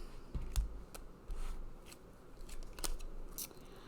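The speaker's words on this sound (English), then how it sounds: "Okay, we're gonna cut the deck again." Card deck cut and shuffled by hand during an oracle card reading: soft papery snaps and riffles in a few brief bursts, close and fairly quiet over low room noise, with no talking.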